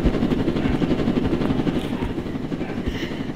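A helicopter in the Roblox Jailbreak video game runs with a steady, loud, pulsing rotor chop that holds close and constant throughout, with no talk over it.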